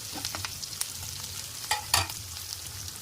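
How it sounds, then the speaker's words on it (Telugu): Onions fry in a pan for wheat rava upma, with a soft continuous sizzle and a few sharp spatula clinks and scrapes as they are stirred. "ఆనియన్ కొంచెం ఫ్రై కావాలి మంచిగా."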